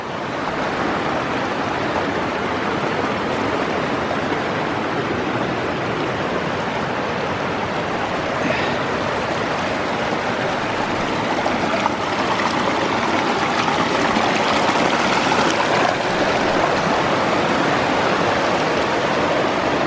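Shingle Creek in the Uinta Mountains rushes over rocks in a loud, continuous roar of flowing mountain water, close by and steady with no break.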